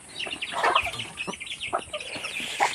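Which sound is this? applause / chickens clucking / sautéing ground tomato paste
chickens clucking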